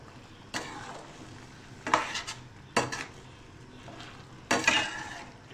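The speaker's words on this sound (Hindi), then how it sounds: "अब मेथी और हरी मिर्चें डाल के हम इसको" A chickpea and egg curry with fenugreek and whole green chilies in a pot, heard as faint stirring with several sharp scraping clinks of a spoon against the pot over a soft background simmer, close and quiet.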